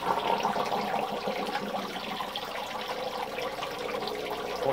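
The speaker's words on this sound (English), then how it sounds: "water is running in" Water runs steadily into a DIY aquarium skimmer through many small holes, a continuous close trickling splash with no talking.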